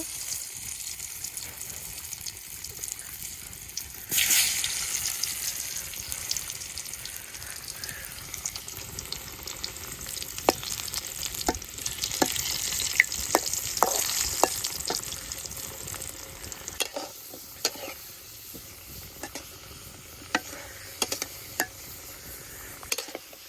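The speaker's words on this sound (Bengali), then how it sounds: "তেলটা গরম হয়ে গেছে গা, দিয়ে দিমু আলু" Potatoes fry in hot oil for egg biryani with a constant sizzling hiss that flares loudly for a moment, then settles, with scattered utensil clicks and stirring. There is no speech.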